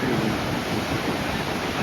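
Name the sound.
Atlantic Ocean waves at Cabo da Roca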